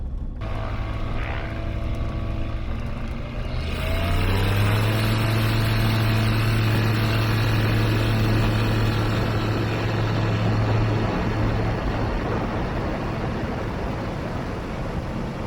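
A light propeller aircraft takes off from a field, its engine rising sharply to a loud, steady full-power drone that holds for over ten seconds before beginning to ease off.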